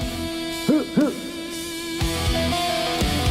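An owl gives two quick hoots, fairly close and clear, over a droning background with a few low thumps and a faint higher tone later on.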